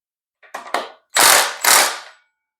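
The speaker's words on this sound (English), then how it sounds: "We're going to loosen our axle nut." Wrench work on a Sportster motorcycle axle nut: two quick lighter rattling bursts, then two longer, louder mechanical bursts in close succession.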